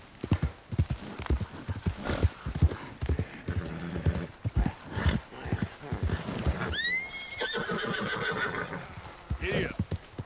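Horse hooves clop at a trot in Red Dead Redemption II, a close, rhythmic beat of clear hoof strikes with a horse whinnying partway through.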